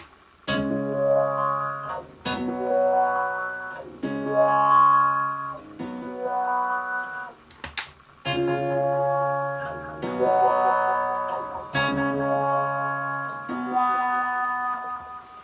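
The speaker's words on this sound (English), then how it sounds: "Now let's reroute the order of the wah and the delay." Electric guitar notes through a delay then a wah pedal ring out in repeated bursts, each smeared by echoing repeats and a sweeping, vocal-like filter, with short gaps between phrases.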